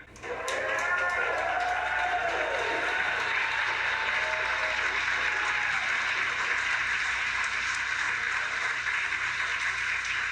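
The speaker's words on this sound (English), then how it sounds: "You can hear the cheer and applause" Cheering and applause from a crowd greet a Falcon 9 first-stage booster landing, a sustained wash of clapping that holds steady throughout, with faint whistles and calls mixed in near the start.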